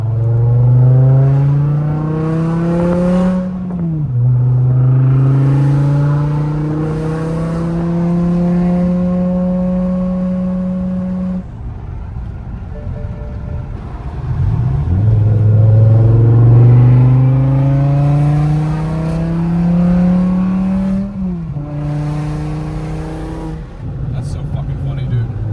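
BMW M5 E60 V10 engine, after the car has been rolled, running near and loud, rising and falling in pitch with revs and settling back, while people talk over it.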